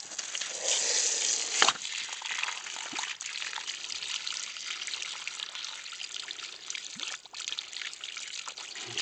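Spring water runs from a hose into a sluice box, bouncing off a rock: a continuous close trickling splash with small irregular spatters and one louder gush near the start.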